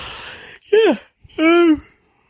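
A close, voiced yawn in two parts, a short rising breath then a longer drawn-out groaning exhale, with a brief silence between them.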